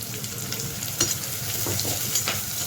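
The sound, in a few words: onions frying in a pan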